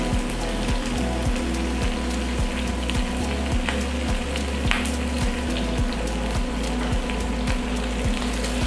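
Vietnamese bánh xèo crepe frying in a pan, a steady crackling sizzle with sharp pops, constant and close throughout with no talking.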